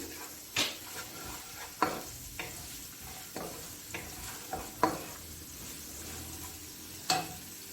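Ginger and garlic sizzle softly in hot oil while a spoon scrapes and stirs the pan at irregular intervals, quiet and close.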